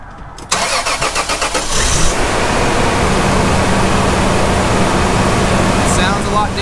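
A supercharged Toyota 5VZ-FE 3.4L V6 with a rebuilt TRD supercharger nose cone cranks briefly, fires and settles into a steady, loud idle, close to the listener and with no talk.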